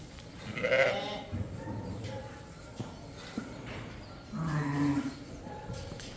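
Sheep on an American farm give two clear, wavering bleats a few seconds apart, fairly close, with quieter animal noises and faint farmyard background between.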